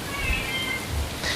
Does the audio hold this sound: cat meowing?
yes